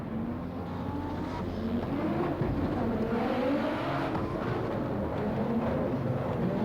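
An Audi Quattro Group B rally car driven flat out, its engine roaring steadily and revving with rising and falling pitch sweeps, heard at a moderate distance with a constant rushing background.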